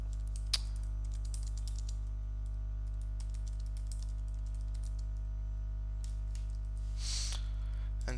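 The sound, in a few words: typing on a computer keyboard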